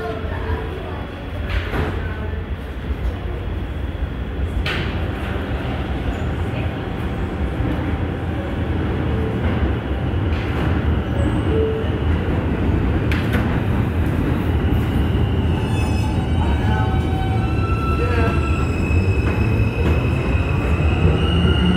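A New York City subway local train at the 4th Avenue–9th Street station rumbles loudly and continuously, with a low roar, occasional wheel squeals and clanks, and an announcement voice heard beneath the noise.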